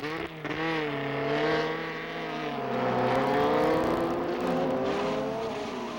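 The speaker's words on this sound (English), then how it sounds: "Here comes Venezuelan Bobby Dennett, our 5th place car" A 1975 Formula Atlantic race car howls past at speed, its high-revving engine note sweeping down in pitch as it passes, with other engines overlapping nearby.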